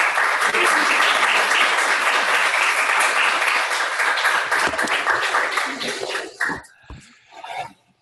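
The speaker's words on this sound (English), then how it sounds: "Just give them one more round of applause, guys." An audience at a permaculture life-design course gives a round of applause, dense clapping for about six seconds that thins out and fades, followed by a few brief trailing sounds.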